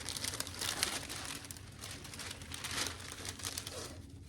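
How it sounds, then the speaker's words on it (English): Iron-on vinyl transfer sheet being peeled and handled, with close, continuous crinkling and crackling of plastic film that ebbs and swells over several seconds. "Let's try peeling from this side."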